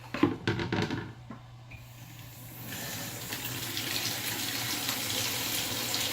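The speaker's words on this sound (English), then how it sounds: "I'll put some water in the bowl so I can dip it in wherever it needs to" Tap water runs into a bowl at a bathroom sink during a shave: a few knocks and clatter come first, then a steady, close rushing stream fills the rest, with no talking.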